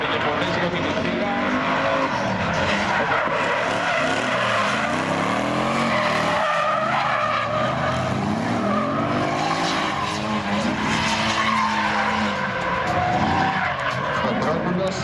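A drift car with a German engine skids at the Afidnes karting track during free practice at a Greek drift championship, with long squealing tire slides and revving engine sweeps, loud and continuous under a commentator's voice.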